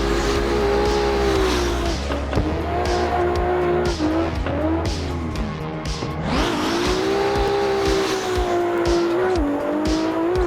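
A Toyota Supra drift car in the Assetto Corsa racing simulator revs hard and continuously, its engine note rising and dipping through slides while tires squeal, loud and close with no voices.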